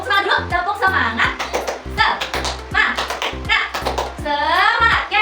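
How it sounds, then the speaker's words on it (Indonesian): Primary class of fifth graders doing a rhythmic spirit clap (tepuk semangat) at the end of a lesson: crisp patterned claps in a repeating beat, interleaved with children chanting along loudly. "coba kita tepuk semangat dulu. Tepuk semangat."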